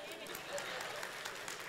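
An audience claps in a broad, steady wash of applause that fills the whole moment, with voices mixed in underneath.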